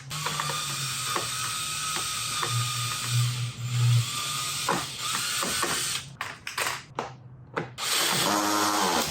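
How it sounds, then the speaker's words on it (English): A ratchet clicks repeatedly in quick bursts, close by, with pauses between strokes as a front license plate screw is tightened on a 2016-2019 Lexus RX350 F Sport. "Try to ratchet this one in."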